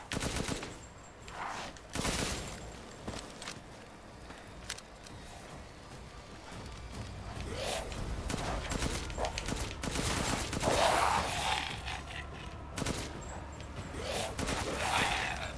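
Gunfire against bioweapons in Resident Evil Village, scattered shots and bursts cracking over a rumbling game soundscape, with groans and a few louder bangs spread throughout.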